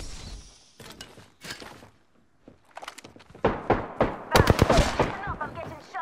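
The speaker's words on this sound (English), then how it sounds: "Enough, I'm getting shot at." Apex Legends gunfire comes in sharp, close bursts, sparse at first and then rapid and dense near the end, with loud cracking impacts over game background sounds.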